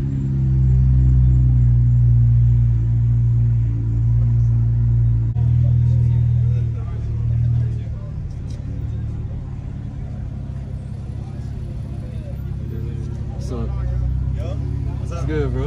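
A big group of cars idles and rumbles together at a night car meet, a steady low engine drone throughout, with people talking nearby over it.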